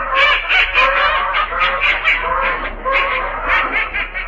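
A large flock of waterfowl calls loudly, a dense overlapping chorus of quacks and honks with no pause.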